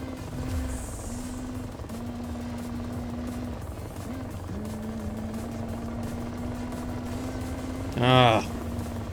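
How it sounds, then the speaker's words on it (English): A police helicopter pursues in a driving video game, a steady whirring engine drone running throughout with faint background game sounds and a brief harsher burst near the end. "Will this chopper leave me alone?"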